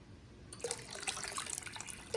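After a short quiet moment, water starts pouring steadily into a pot of vegetables for broth, splashing for a couple of seconds.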